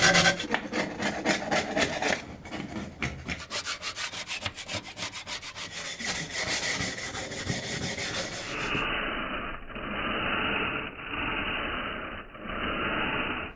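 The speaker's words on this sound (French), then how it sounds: "Et ensuite, un petit coup de brosse métallique." A wire brush scrubs the steel cutter bar of a combine harvester in a rapid, rhythmic rasping, close and steady, with the strokes growing smoother and more even toward the end.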